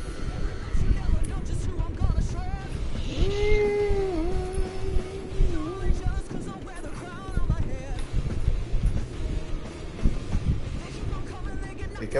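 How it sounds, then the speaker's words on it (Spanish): A cat lets out a drawn-out, wavering meow midway through, fairly close, over constant wind-like background noise with voices talking. "¿Y qué vas a hacer con los Michi?"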